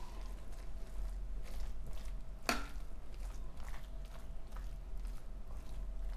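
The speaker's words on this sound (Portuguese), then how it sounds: "Vou estar dando uma ajeitadinha aqui com a colher" A spoon smoothing a meatless vegetable mixture in a baking dish, giving faint, soft scraping strokes against a quiet background, with one sharp clink partway through.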